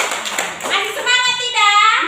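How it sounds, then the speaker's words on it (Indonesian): Classroom clapping rings out in quick, close bursts early on, then gives way to children's voices talking over the room. "Tepuk tangan dulu untuk kita semua"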